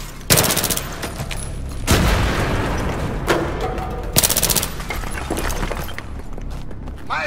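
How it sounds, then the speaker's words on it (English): A grenade blast in the Battlefield 3 shooter game bursts loudly, surrounded by several sharp cracks and sustained gunfire with rumbling debris, close and intense throughout. "Grenade!"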